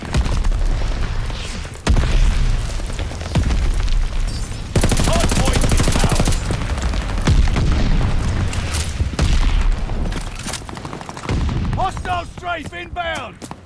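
Dense gunfire and booming explosions fill a Hardpoint match in Call of Duty: Vanguard, loud and nearly continuous, with in-game voices calling out over the rattle near the end.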